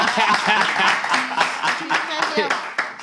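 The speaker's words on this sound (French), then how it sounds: "Est-ce que vous pouvez applaudir?" Audience applause at a live event: scattered, uneven clapping from a modest crowd, fairly close, rising and dipping over a few seconds, mixed with voices talking and calling out.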